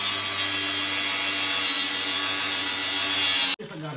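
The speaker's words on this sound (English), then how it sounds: "Then it's time to get on the grind." A power grinder cuts during a front strut replacement on a 2012 Ford Taurus, giving a loud, steady, high-pitched whine for about three and a half seconds before it abruptly stops, leaving faint workshop clatter.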